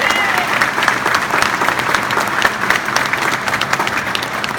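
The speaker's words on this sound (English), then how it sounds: "Please join me in a round of applause for his effort thus far." Steady applause from a gathered audience at a chair dedication for an Eagle Scout service project, a dense even patter of many hands filling the room without a break.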